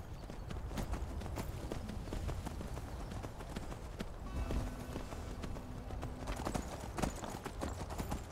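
A horse gallops in Skyrim Special Edition, a steady run of rapid hoof clip-clops over a dense ambient game soundscape, close and continuous throughout.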